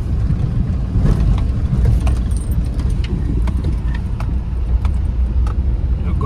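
A car engine labours on a damaged mountain road in Uttarakhand, with a steady loud rumble and faint metallic jangling over it, no voices.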